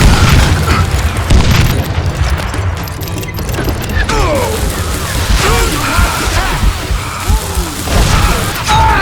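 Dynamite blasts in the Western shooter game Call of Juarez: Gunslinger, loud booming explosions and crashing debris rolling through a dense, continuous din of gunfire and action.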